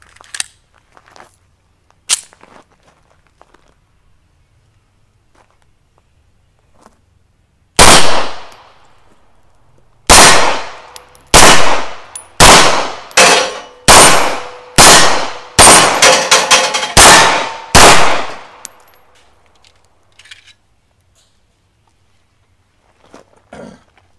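A Llama 9mm 1911 pistol fed from a factory Spanish Llama magazine with nine rounds fires one loud, sharp shot, then after a pause a quick series of about eight more reports, close and ringing, with quiet in between.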